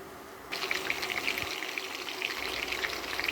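Steady sizzling and crackling of chicken roulades browning in a hot pan, starting suddenly and continuing with fine popping spatters throughout.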